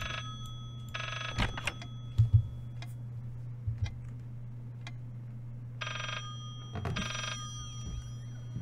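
Rotary phone in the Layers of Fear horror video game ringing in short metallic bell bursts, two pairs separated by a pause, loud over a low steady game hum with a few soft thuds between rings.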